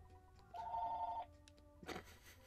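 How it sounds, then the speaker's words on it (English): A short electronic telephone ring from the EarthBound video game sounds as a steady buzzing tone, followed by a brief burst of game sound effects, with no talk. "Phone."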